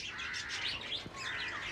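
Budgerigars kept in a cage chirp and twitter in a busy overlapping chorus, high and fairly close, throughout a short stretch without talk.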